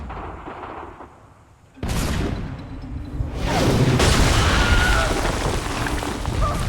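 Artillery barrage in Assassin's Creed III near Bunker Hill, loud booming blasts starting abruptly after a quieter stretch and swelling into a sustained rumbling roar with overlapping explosions.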